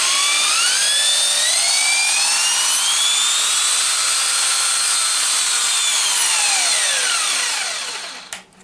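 An Einhell TE-DW 225X wall and ceiling sander switched on and running: a loud, steady high motor whine with rising and falling tones that cuts off near the end, with no talking.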